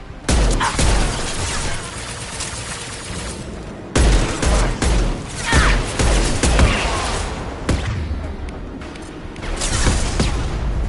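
Heavy bursts of gunfire in Mass Effect 2, loud and close, with repeated volleys and booming shots roughly every few seconds across the combat.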